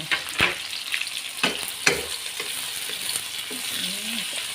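Wet oncom stir-fried in a pan with shallots and red chillies, a steady close sizzle broken by several sharp scraping strokes of a spatula, with no talking.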